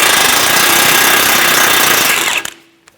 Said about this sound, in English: Using an 18mm socket, remove the nut for the outer tie rod.